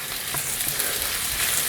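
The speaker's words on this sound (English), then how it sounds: "That's the sizzle we're looking for right there." Aromatics sauté in a hot pan for Thai chicken, giving off a steady, close sizzle and frying crackle with faint stirring scrapes and no talk.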